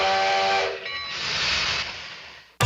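Steam train whistle sound effect, one loud, sustained hissing blast that fades out, then a sharp burst at the very end.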